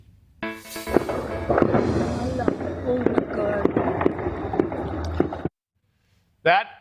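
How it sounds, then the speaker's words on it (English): A rapid crackling burst of sharp reports, gunfire attributed to a Mexican cartel, runs for several seconds under noisy ambience before cutting off, followed by a brief snippet of sound. "The sound of gunshots from a Mexican cartel, at least according to Border Patrol."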